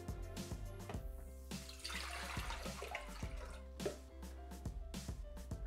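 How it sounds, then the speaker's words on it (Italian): Water runs into the jug of a Thermomix TM6 kitchen machine while making limoncello, a soft trickling pour at close range amid faint hum and scattered small clicks, with no talking. "Mettiamo all'interno del boccale l'acqua"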